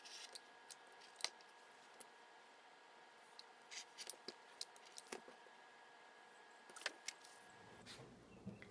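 Fabric being cut with scissors: faint, scattered snips and soft clicks in a quiet room, with no talking.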